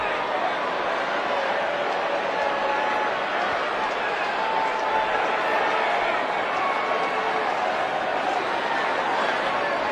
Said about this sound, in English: An unhappy crowd here in Washington right now.